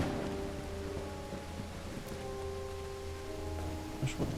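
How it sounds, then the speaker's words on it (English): Steady rain falls in a video game, a soft constant hiss with low rumble underneath, fairly quiet and alone without voices. "It's raining cats and dogs here"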